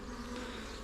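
Honey bees hum steadily at an open beehive during a spring inspection, a continuous soft drone of many insects with no voices over it.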